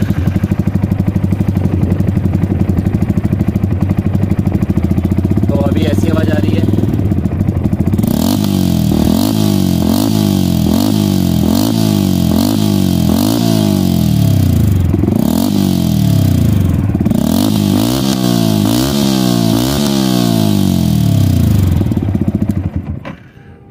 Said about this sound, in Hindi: करते हैं स्टार्ट और सुनते हैं हमारे वेल्वेट्रॉनिक ऑफ पे SC project full system exhaust की साउंड।